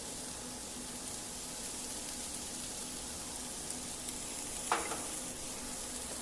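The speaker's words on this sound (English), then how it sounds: "I am going to go ahead and add that while I'm sauteing these vegetables" Vegetables sauté in a pan with taco seasoning, giving a steady, even sizzle that fills the whole stretch, with a single brief scrape of stirring near the end.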